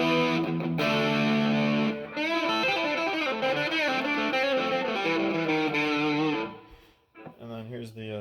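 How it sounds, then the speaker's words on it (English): A Schecter Reaper 6FRS electric guitar played through its bridge pickup with light crunch distortion, ringing chords and sustained notes close and loud for several seconds, then a brief pause and a final struck chord. "Here's what the bridge pickup sounds like with a little bit of crunch."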